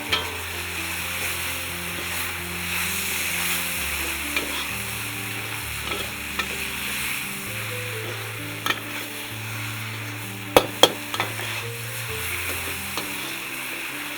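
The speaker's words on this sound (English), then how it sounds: "The heat has to be really high when you're using a wok" Meat and vegetables for pad see ew stir-fry in a very hot wok with oil, giving a steady loud sizzle broken by scraping stirs and occasional sharp clanks of the utensil against the pan, with no voices.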